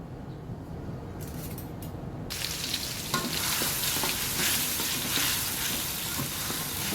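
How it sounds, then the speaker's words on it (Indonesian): Spice paste hits hot vegetable oil in a pan while cooking sosis solo. After a quiet start, a loud, steady sizzle and crackle rises and keeps going. "Sekarang kita akan tumis bumbunya ya sampai harum."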